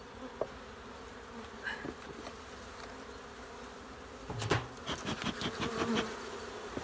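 Honeybees at an opened hive in February hum softly and steadily, with louder buzzing bursts close by as bees fly past near the end.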